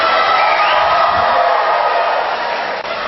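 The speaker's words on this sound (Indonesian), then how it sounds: "Silakan tepuk tangan." Audience at a regency head candidates' debate in Bungo, Indonesia, responds with loud, dense applause and cheering that swells early and holds steady before tapering slightly near the end.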